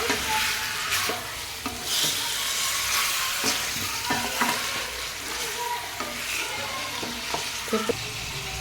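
Chicken leg pieces are stirred in a sizzling frying pan, with a spoon scraping and clacking at irregular intervals over a steady, close frying hiss.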